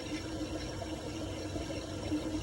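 Liquid from a hard-water precipitate is drawn by vacuum through a lab filter, giving a faint, steady hiss with a low hum underneath and no voices.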